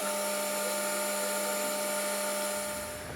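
Dry 600-grit sandpaper working a pen blank on a spinning lathe, a steady high whirring hum with bright tonal lines and a constant hiss, close and continuous, easing off slightly near the end.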